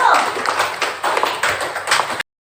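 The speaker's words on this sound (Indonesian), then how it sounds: "Tepuk tangan dulu untuk kelompok 1." A classroom group applauds with quick, dense clapping at moderate volume for a couple of seconds, then it cuts off abruptly.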